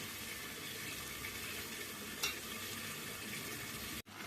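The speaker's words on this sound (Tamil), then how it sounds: "ஒரு அஞ்சு நிமிஷம் அப்படியே எண்ணெயில் வேகட்டும்" Chicken cooking in oil in a kadai, a soft, even bubbling sizzle that holds steady at low volume, with one faint clink midway and a sudden brief drop near the end, no talking.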